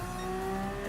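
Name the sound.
race car braking hard into corner, Gran Turismo Sport video game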